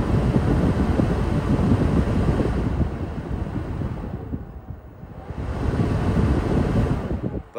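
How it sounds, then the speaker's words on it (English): DeWalt 20 volt job site fan running right at the microphone, a loud rushing, buffeting airflow that swells and dips, easing off briefly near the middle before returning strongly. "That is the DeWalt 20 volt job site fan."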